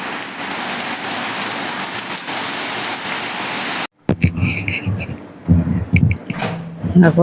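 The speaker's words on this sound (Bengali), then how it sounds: "বলতে বলতে বৃষ্টি নেমেও গেল দেখো" Steady rain hisses loudly for about four seconds, then cuts off abruptly, followed by close, uneven thumps and clatter.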